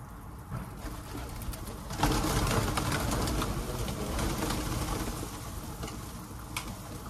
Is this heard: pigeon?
yes